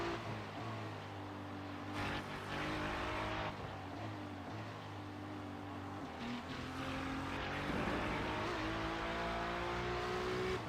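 GT3 race cars in a racing video game lap the Suzuka circuit, with engines droning and rising and falling in pitch through shifts. The steady, fairly close engine noise stays continuous, with no voices over it.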